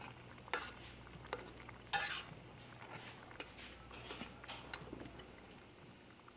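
Chole in a pot, just uncovered after simmering, is stirred with a spoon, making soft scattered scrapes and clinks over a faint, quiet bubbling background.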